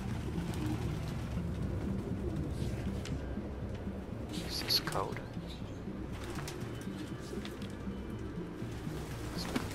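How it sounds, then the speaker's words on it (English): Pigeons coo and flutter in an enclosed space in Detroit: Become Human, soft repeated coos over a rumbling background while someone speaks briefly. "maybe let some of these pigeons out"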